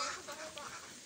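Ducks quacking outside at night, faint and somewhat distant, mixed with wind noise and soft background voices.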